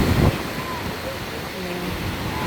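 Strong ocean waves at a surfing beach in Noja, Cantabria, Spain, make a steady rushing wash with a louder surge at the start, partly masked by wind on the microphone.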